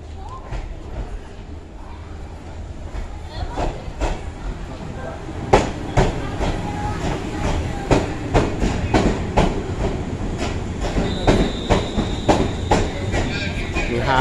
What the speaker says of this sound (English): Eto na ang train.